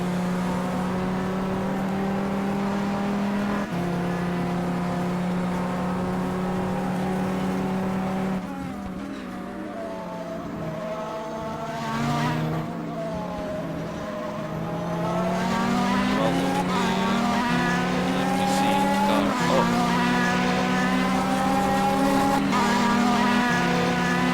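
LMPC prototype race cars in the rFactor racing game at Le Mans lap with loud, high engine whines that rise and fall through gear shifts, braking and acceleration, under continuous commentary from a man.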